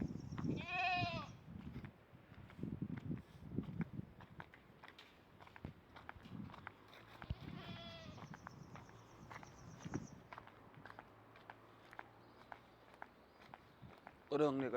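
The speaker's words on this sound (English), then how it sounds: "Good old Rami goat." Goats bleat outdoors in Jamaica, with two clear bleats near the start and around eight seconds, set against footsteps, background chatter and ambient noise.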